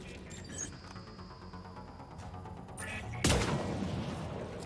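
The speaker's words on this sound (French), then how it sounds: "C'est quoi ce gros tir ?" Heavy gunfire from enemy Nemesis snipers in Mass Effect: Legendary Edition erupts as a sudden loud blast about two-thirds through, following a stretch of quieter game ambience and clicks, with a sustained rumble afterward.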